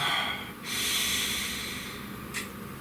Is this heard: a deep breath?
yes